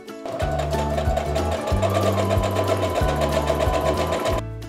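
Sewing machine stitching a quilt block seam, a loud, close, continuous motor whir with a rapid needle rhythm that starts abruptly, runs steadily for about four seconds and cuts off sharply.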